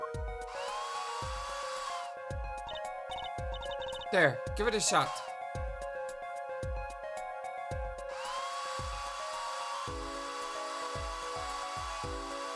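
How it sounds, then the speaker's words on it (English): A dryer whirs steadily while drying plaster in the Ace Attorney Apollo Justice video game, over rhythmic background music. A voice speaks briefly partway through. "Just press X to blast it with the dryer."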